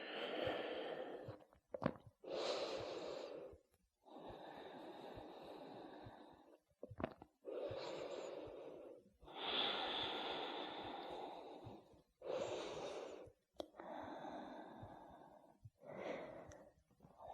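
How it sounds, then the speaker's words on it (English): Deep, slow breaths during a yoga puppy pose in a shoulder mobility flow, each long, airy inhale or exhale close to the mic, repeating steadily about every two seconds with brief pauses between. "Start to slow down your breath."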